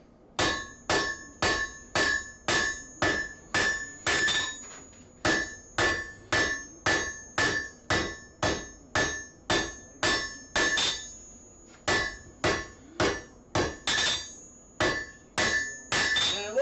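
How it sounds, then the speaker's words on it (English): A hammer strikes a metal spatula blank in a steady, even rhythm, about two ringing blows per second for the whole stretch with a couple of brief pauses. Bright metallic clangs, close and clear, with no talk. "I'm just hammering on it"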